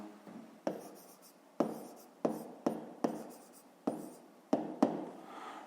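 Pen strokes on paper while working a fifth-grade maths exercise: a close, steady series of about eight scratchy writing bursts, each sharp at the start and trailing off, with no talk.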